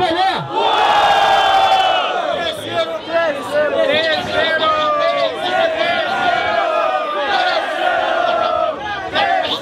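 A crowd at a freestyle rap battle street event in São Gonçalo roars and cheers loudly, with whooping shouts and chanting voices overlapping in a sustained, close wall of noise.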